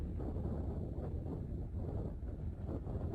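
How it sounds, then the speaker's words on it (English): Wind gusts buffet the microphone outside on an icy road, a low steady rumble that swells and dips slightly throughout without any voices. "you can hear it's windy as well out there."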